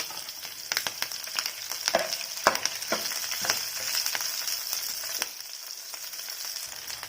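Slit green chilies fry in hot oil with cumin and chana dal for a drumstick curry, giving a steady close sizzle with sharp crackles and pops and occasional stirring scrapes.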